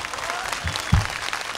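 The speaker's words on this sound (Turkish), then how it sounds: "Hayır, niye alkışlıyorsunuz?" Studio audience at a Turkish television talk show applauding; a burst of many hands clapping, fairly close and loud, with a scattering of voices mixed in.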